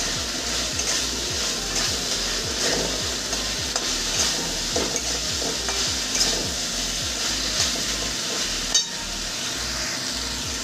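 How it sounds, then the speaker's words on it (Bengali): Raikhor fish pieces fry in hot oil with spice paste for an oil-chili dish, giving a loud, continuous sizzle. A spatula scrapes through the pan in a steady, regular rhythm, and no one speaks. "এবার আমি মাছটা এর মধ্যে দিয়ে দেবো। মাছ দিয়ে আমি 2 মিনিট কষিয়ে নেব।"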